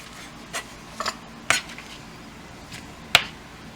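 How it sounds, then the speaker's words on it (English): A knife cuts raw pork into pieces on a board, giving a few sparse, crisp knocks and scraping rasps at irregular intervals, close and fairly quiet with no talk. "He's just cutting them into pieces."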